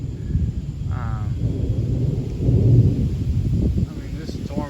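Thunder from a violent supercell thunderstorm rolls as a low, swelling rumble. It peaks briefly partway through, with a voice talking over it.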